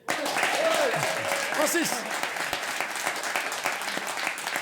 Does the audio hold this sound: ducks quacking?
no